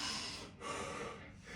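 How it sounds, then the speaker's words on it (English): A deep, heavy breath drawn after a HIIT workout set, close and fairly quiet, with a short inhale, a brief pause and a second breath. "Taking that deep breath."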